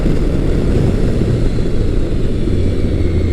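A motorcycle engine roars steadily with intake noise under throttle, pulling hard out of tight corners on a gravel-strewn road; the loud, continuous drone sits close and dominates throughout.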